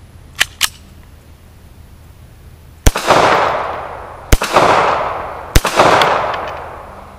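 A Stallard Arms JS 9mm pistol fires: two faint, quick pops at first, then three loud, sharp close shots spaced about a second and a half apart, each followed by a long rolling echo; no speech.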